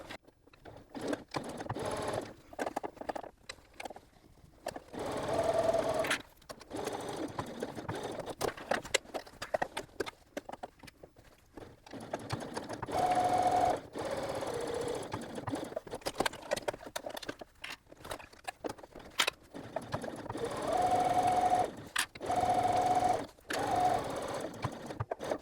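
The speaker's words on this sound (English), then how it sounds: "I can switch to my regular presser foot and sew around the rest of the edges using a 3/8 of an inch seam allowance" A domestic sewing machine fitted with a regular presser foot stitches around the edges of a bag with a curved zipper, whirring in close, steady runs broken by brief pauses.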